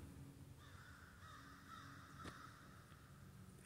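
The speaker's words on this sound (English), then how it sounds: "it's so peaceful here. You can hear the birds in the background." Crows caw faintly in the distance against a quiet outdoor background, a few harsh calls spread across the moment.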